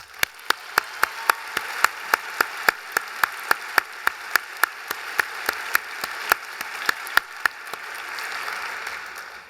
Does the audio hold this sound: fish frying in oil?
no